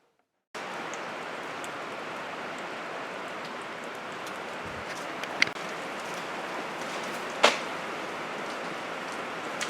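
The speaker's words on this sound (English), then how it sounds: "It's raining out again." Steady rain falling outside makes a dense, even hiss that runs unbroken for the whole stretch, with a couple of sharper drip-like ticks standing out near the end and no voices.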